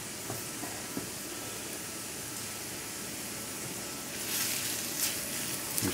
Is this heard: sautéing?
yes